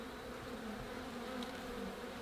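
Honey bees buzz steadily around fresh, self-built comb holding larvae, a dense continuous drone close by with no pauses and no voices.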